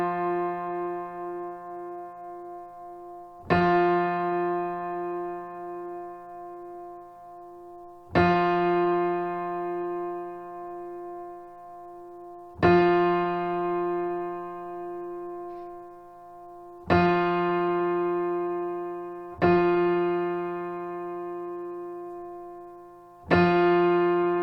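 A piano octave, F3 against F4, is struck again and again at steady intervals of about four seconds, each strike ringing and decaying while the beating between the two strings slows as the tuning is adjusted. No voices are heard.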